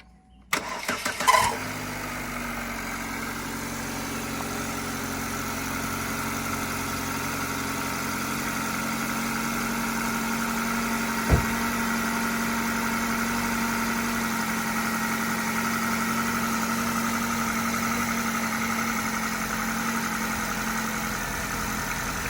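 A vehicle engine cranks and catches after about a second, then settles into a smooth, steady idle while warming up, with a single brief knock midway and no talk.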